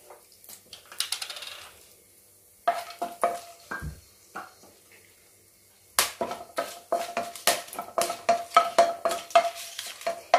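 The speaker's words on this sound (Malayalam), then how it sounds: "നെയ്യ് ചൂടായതിലേക്ക് ബേ ലീഫ്, ഏലക്ക, ഗ്രാമ്പു, കറുവാപ്പട്ട, തക്കോലം ഒന്ന് നമുക്ക് മുറിച്ചിട്ട് കൊടുക്കാം." Whole spices frying in hot ghee: bay leaf, cardamom, cloves, cinnamon and star anise crackle and pop in the pan. Scattered sharp sizzles and clinks build into a dense run of popping near the end.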